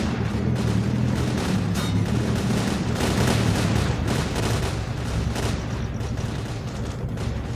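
A continuous din of gunfire and booming blasts in S.T.A.L.K.E.R.: Clear Sky, dense and loud throughout with rapid overlapping shots and heavy rumbling impacts.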